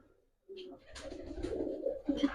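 Giribaz pigeons, a Bangladeshi high-flyer breed, coo softly in a few low rolling phrases, starting after a brief silence and continuing close by without any talk.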